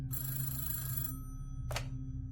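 A telephone rings in a quiet indoor setting, one long electronic trill followed by a short second burst after a pause, fairly close and alone without voices.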